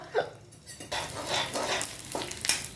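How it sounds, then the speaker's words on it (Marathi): Edible gum fries in ghee in a pan, a close bubbling sizzle broken by repeated scraping strokes of a spatula. "मी हे ढिंक ढिंक भाजून घेते म्हणजे तळून घेते थोडंसं"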